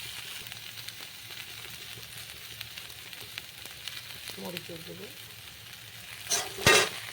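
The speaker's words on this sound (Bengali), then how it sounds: "এবার ঢাকাটা খুলে নাড়িয়ে মশলাগুলো ভাজা ভাজা হয়ে গেছে" Pumpkin stems and spices fry with a soft, steady sizzle in a pan, with a scrape of stirring and a brief spoken word near the end.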